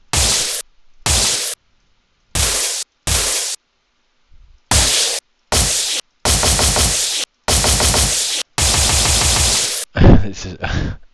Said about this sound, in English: it's good for making Hollywood gunfire sounds